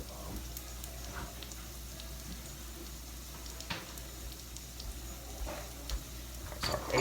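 Potatoes for breakfast burritos sizzle quietly in a pan, with a soft continuous crackle and occasional louder scrapes and taps from stirring, no talking.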